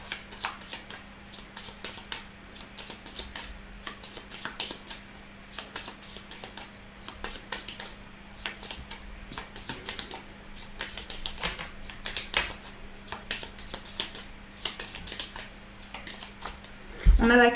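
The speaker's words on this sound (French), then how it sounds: "on va continuer avec le jeu de 32 pour voir ce qui ressort. On va faire un tirage en croix." Cards from a 32-card deck handled and drawn for a cross-shaped reading, a dense run of soft, rapid, close clicks and flicks like shuffling, under quiet talking.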